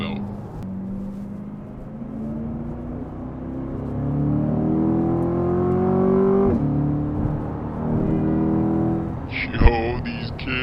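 A 2023 Corvette C8 Z51 and a BMW M3 accelerate onto a highway, with a steady engine drone rising in pitch through the gears, then a brief sharp burst near the end, under continuous talk.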